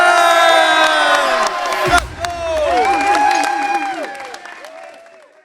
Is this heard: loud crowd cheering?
yes